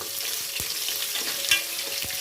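Chopped onion frying in a pan for fenugreek pulao, a steady close sizzle with a few sharp stirring knocks of a utensil against the pan.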